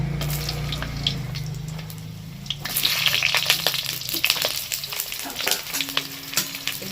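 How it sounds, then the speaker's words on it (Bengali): Pointed gourd frying in hot mustard oil, heard as a close, loud sizzle with clattering stirs and scrapes of the spatula, no voices. "প্রথমে পটলগুলোকে ভেজে নিতে হবে"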